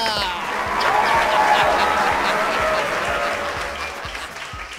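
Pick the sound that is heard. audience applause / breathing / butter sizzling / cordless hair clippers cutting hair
audience applause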